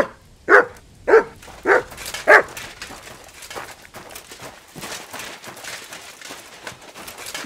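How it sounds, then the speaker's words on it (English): Mutz the dog in Kingdom Come Deliverance 2, four loud rhythmic barks in quick succession followed by softer yips and whimpers at close range. "Good dog, Mutz."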